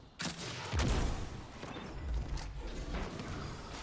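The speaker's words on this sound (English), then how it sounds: "Oh boy, grenade launchers" Grenade launcher fire in Destiny 2 bursts out in heavy thumping blasts, with a strong hit near the start and another around two seconds, over dense, continuous game noise.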